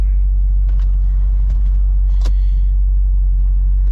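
A 2010 C6 Corvette with catless Corsa Extreme exhaust, a loud, deep, steady droning rumble from the cabin, with a few faint clicks and taps above it.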